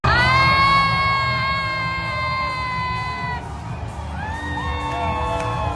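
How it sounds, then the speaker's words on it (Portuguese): Brazil fans in a Florida bar erupt in loud cheering and shouting after Casemiro scores a World Cup goal in Qatar, with high sustained tones ringing over the roar before the crowd noise eases. "Quando Casemiro marcou, a torcida foi à loucura neste bar da Flórida"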